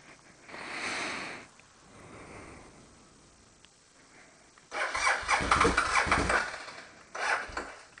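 Motorcycle with an ageing battery cranking but failing to catch, a short churning burst early on, then a louder, longer cranking stretch and a final brief attempt, close by with no talking.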